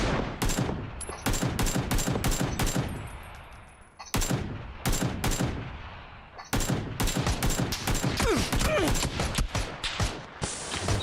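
Rapid bursts of shooter video game gunfire crackle in dense volleys, loud and close, broken by a couple of brief pauses before the shooting resumes just as heavily.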